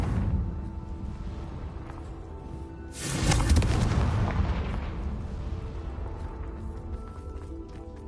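Confringo spell blasts in the Hogwarts Legacy video game: one loud, broad explosive burst erupts about three seconds in and rumbles away over the next two seconds, with a steady game ambience before and after.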